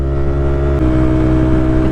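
A Honda Monkey bike fitted with a Yoshimura exhaust runs flat out on the road, its loud, close, steady engine drone holding high revs with a slight dip partway through.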